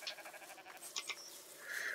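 Sheep in the video game Rising World bleat in short, wavering calls over a quiet background, nearby and fairly soft, with no speech.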